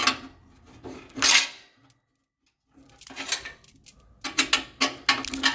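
A 3/8 socket wrench works loose the bolts on a Quadra-Fire pellet stove burn pot, giving close metallic scraping and ratcheting rasps in bursts separated by a brief pause.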